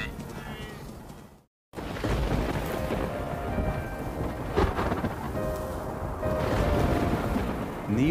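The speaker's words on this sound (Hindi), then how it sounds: "नियो के लिए ये चीज भी पहली बार हो रही है, बारिश" Rain falls steadily during a rainy-season thunderstorm in the wild, a dense hiss with low rumbling thunder building underneath, interrupted by a brief silent gap before the downpour continues.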